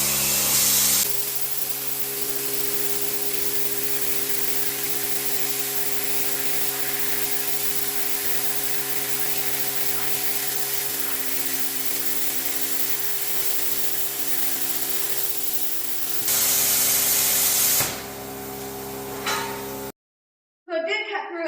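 A Hypertherm plasma cutter slices through 3/8 inch steel, giving a steady, loud broadband hiss with a low hum that runs unbroken for about fifteen seconds, then a brief harsher burst before it cuts off into silence.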